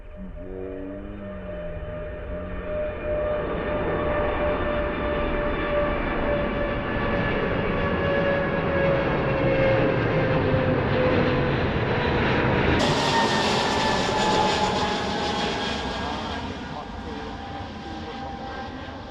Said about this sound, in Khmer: យន្តហោះទី13របស់ Pacific Cathay Pacific ដែលចាក់ចេញពី Daejeon International Airport បាទឥឡូវកំពុងតែលើកកង់មកហើយ